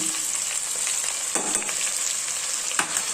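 Curry with turmeric and chili powder added is stirred in a hot pan, giving a steady close sizzle with brief scraping strokes at intervals.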